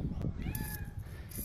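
A cat meows softly in a plaintive, sad tone, a couple of short drawn-out cries close by in a quiet outdoor setting.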